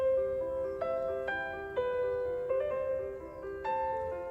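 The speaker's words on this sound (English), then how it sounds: "that's definitely the piano" Piano notes are played in a short melodic phrase, each struck tone ringing and decaying into the next, soft and alone with no voices.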